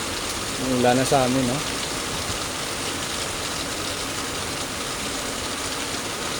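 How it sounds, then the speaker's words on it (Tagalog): Steady rain falls continuously at close range, a dense even hiss throughout, while a voice speaks briefly over it early on. "So ito na yan guys, yung ulan"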